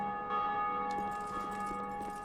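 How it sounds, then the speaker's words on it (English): A church-style bell rings in Dark Souls II: Scholar of the First Sin, a sustained metallic tone with steady ringing overtones that holds throughout and decays slowly under faint ambient game sounds. "Oh, it rings the bell."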